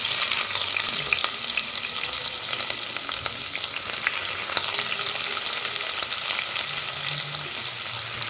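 Onion frying in hot oil with cinnamon and cardamom for Tamil kuska rice, a steady, close, bright sizzle with faint crackles and light stirring throughout.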